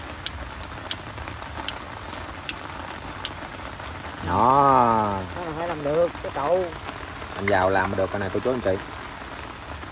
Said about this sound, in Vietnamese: mưa này chắc có lẽ là dai lắm nè